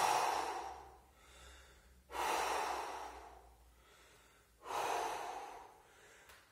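A person recovering between workout exercises breathes out hard through the mouth, three long, forceful exhalations in a slow regular rhythm, close and breathy, with quiet gaps between.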